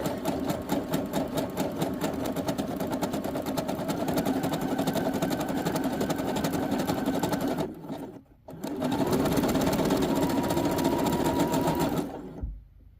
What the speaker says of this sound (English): you're going to want to sew all the way down the raw edge